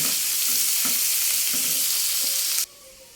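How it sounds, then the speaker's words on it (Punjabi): Finely chopped onion fries in mustard oil with Kashmiri red chili, a loud, dense, close sizzle with faint stirring taps that cuts off abruptly near the end. "ਪਿਆਜ਼ ਆਪਣਾ ਦੇਖੋ ਜੀ ਭੁੱਜ ਗਿਆ ਆ"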